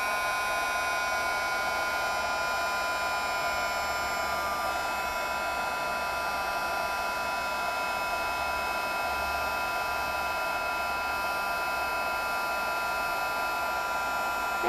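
An embossing heat tool blows steadily and loudly the whole time, melting gold embossing powder on stamped berries on a poster board Christmas tag, a constant hair-dryer-like whoosh with faint hum.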